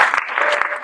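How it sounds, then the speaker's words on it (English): Short burst of audience applause at a medical cannabis gathering in New York, dense clapping from a roomful of people for a birthday guest, fairly close and steady for under a second. "let's give her a round of applause to Donna"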